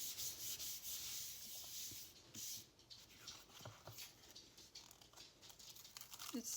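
Paper is smoothed down by hand onto a taped page of an altered book journal, giving faint, close rubbing and light crinkling strokes in short, uneven bursts.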